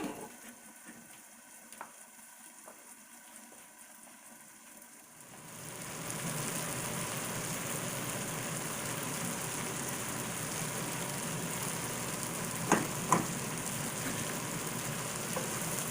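Cabbage soup in a pot starts as a faint low murmur, then swells into a steady loud bubbling hiss after about five seconds, with a couple of brief clinks near the end and no talking.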